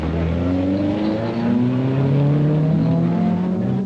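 A Triumph race car at the 1961 Le Mans 24 Hours, its engine note droning loud and steady with a slowly rising pitch as it accelerates, no voices over it.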